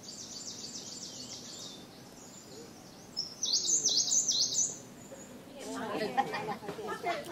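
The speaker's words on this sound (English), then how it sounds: "Silver ear laughing thrush." A silver-eared laughingthrush sings in Thai forest: thin, high, whistled phrases, then a brighter burst of notes. Rustling and chattering follow near the end. The bird sounds moderately close against a quiet background.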